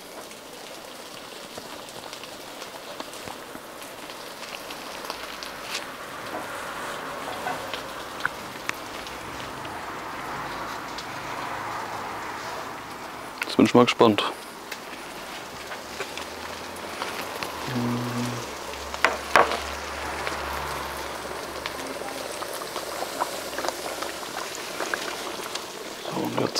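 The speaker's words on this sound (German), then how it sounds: "Drauf und Schnitzel in die Pfanne." Continuous soft sizzling and crackling of Wiener schnitzel frying in a pan on a gas grill, with a couple of louder clatters and a few spoken words over it.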